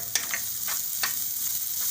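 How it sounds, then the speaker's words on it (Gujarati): Chopped carrots and onion fry in hot oil in a pan, giving a steady close sizzle with a few brief scraping stirs over the top and no talking. "ગાજરની ઘડીક આપણે તેલમાં ચડવા દઈશું."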